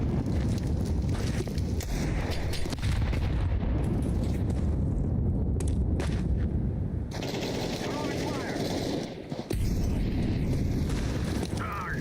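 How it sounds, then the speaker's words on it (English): A grenade blast in Counter-Strike 2 gameplay, a loud, sustained rumbling roar dense with gunfire-like crackle that fills the whole stretch, with voices talking over it. "Grenade out."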